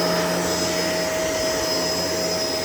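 Shark LA702 vacuum cleaner running indoors, a loud steady motor whine with constant airflow rush and a high tonal hum, close and unbroken throughout.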